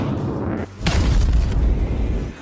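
A rocket strike explodes in a film scene, a deep booming blast swelling after a brief lull, loud and rumbling for over a second.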